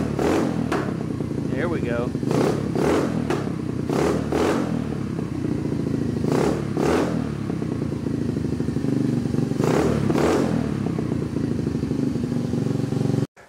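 A 2022 Honda Navi small motorcycle revved hard in repeated bursts while trying for an exhaust flame, its loud close engine buzzing and rising and falling throughout with brief clattering; someone speaks briefly.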